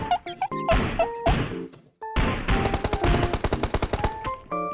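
Gunfire in the mobile battle-royale game PUBG Mobile, rapid automatic bursts and sharp shots, loud and close, mixed with game sound effects and beeping tones.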